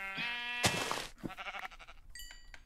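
Sheep bleating in the video game Minecraft, a few short, close bleats with game sounds in between.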